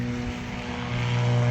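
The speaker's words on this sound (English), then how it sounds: "That's a plane." Steady propeller drone from a small fixed-wing airplane flying past outdoors, a sustained engine hum that swells slightly louder toward the end.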